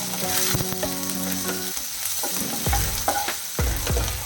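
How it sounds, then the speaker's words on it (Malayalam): Ginger, garlic and green chili sizzle and fry in hot oil on low flame for dal tadka, with a spoon scraping and stirring through the pan in close, busy bursts. "ഇഞ്ചി, വെളുത്തുള്ളി, പച്ചമുളക് അത് കഴിഞ്ഞിട്ട് ഒന്ന് ചെറുതായിട്ട് വഴറ്റിയിട്ട്"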